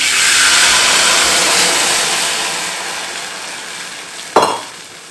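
Tamarind water poured into a hot pan of curry leaves while making pepper kuzhambu (milagu kuzhambu) sets off a loud, hissing sizzle that slowly fades, then a sudden sharp splash-hiss bursts near the end.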